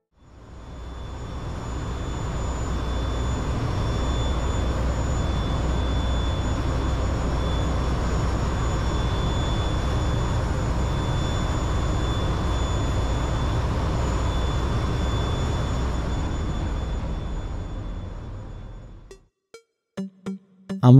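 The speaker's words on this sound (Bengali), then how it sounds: "দেখুন এটা ইঞ্জিন রুম।" Steady, loud machinery drone in a ship's engine room aboard a Saint Martin ferry, with a broad low rumble and faint high whines running continuously before cutting off into a few scattered knocks near the end.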